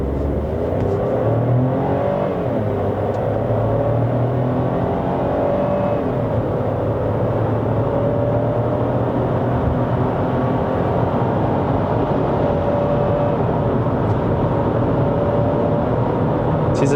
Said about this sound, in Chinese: 然后我要偷偷做一点 launch 啊，各位。